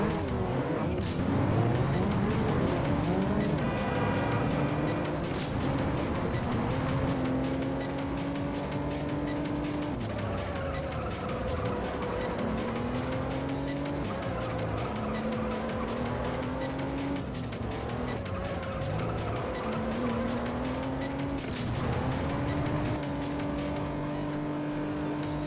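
In the racing game Juiced, a car engine revs hard, its pitch climbing and dropping through the gear shifts, while tires squeal and skid in stretches, loud and continuous.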